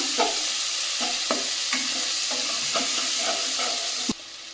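Salted onions fry in oil left over from frying fish, giving a loud, continuous sizzle with rhythmic scrapes of stirring, before the sound cuts off abruptly near the end.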